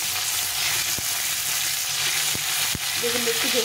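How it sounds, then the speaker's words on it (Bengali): Eggplant pieces fry in hot oil in a pan after potatoes, giving a steady, close sizzle broken by a few sharp knocks of a spoon against the pan. "এখন আমি এর মধ্যে বেগুনটা দিয়ে দেবো। বেগুনটা ভেজে নেব।"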